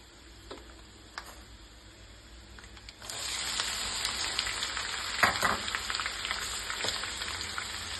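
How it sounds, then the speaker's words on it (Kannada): Onions and curry leaves hit hot oil with peanuts in a pan, a quiet ticking becoming a louder, dense sizzle partway through, with sharper crackles and pops and no talking. "ಹಾಕ್ಕೊಂಬಿಟ್ಟು ಚೆನ್ನಾಗಿ ಈರುಳ್ಳಿ ಫ್ರೈ ಮಾಡ್ಕೊಳ್ಳಿ"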